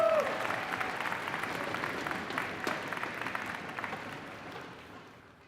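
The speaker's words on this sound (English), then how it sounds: "Another round of applause for Takahiro" Audience applause at a barista championship semi-final, a steady wash of many hands clapping that holds evenly for several seconds and slowly fades toward the end, with a brief voice right at the start.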